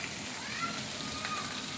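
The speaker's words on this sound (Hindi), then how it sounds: "और जोरदार वाली बारिश आई है।" Heavy rain pours down steadily in an outdoor rural setting, a dense continuous hiss with no breaks and no voices.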